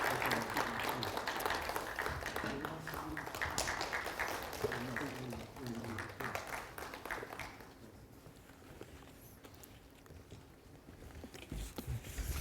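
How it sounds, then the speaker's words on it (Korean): Dense audience applause during a plaque presentation at an industrial engineering society's 2020 autumn academic conference. It is loud for about seven seconds, then thins out and fades, with some voices underneath. "큰 박수로 축하해 주시기 바랍니다."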